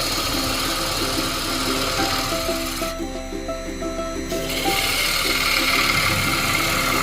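Lathe hollowing of a wooden goblet, a continuous rough, rubbing scrape over a steady low mechanical hum, with the cutting noise dropping out for about a second and a half midway before resuming, fairly close and with no talk.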